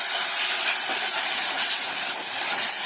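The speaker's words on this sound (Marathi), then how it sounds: "हे सगळे ह्या तेलामध्ये परतून घेऊया कांदा टॅमॅटो बरोबर." Red chili powder, garam masala and chaat masala sauté in hot oil with onion and tomato for a chickpea soup, giving off a continuous close, dense sizzling hiss with no voices.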